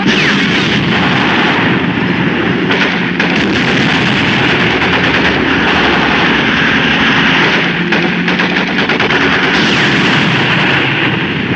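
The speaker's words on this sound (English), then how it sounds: "Keep firing, Heine." Dense, continuous battle din from a 1951 war film's tank battle: steady gunfire with rapid bursts and heavy booms layered over a constant roar, loud throughout with no voices.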